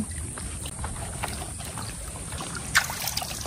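River water laps gently and continuously at the bank at ebb tide, soft splashes and ripples with light wind noise and a small knock near the end.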